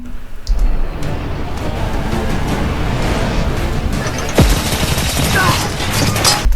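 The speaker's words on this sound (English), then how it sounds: "Thank God he's shooting in that one tiny little condensed spot, or everyone else in the world will be dead right now" Rapid, dense gunfire rattles through an action scene from a film or show, loud and nearly continuous, with a sharper crash partway through.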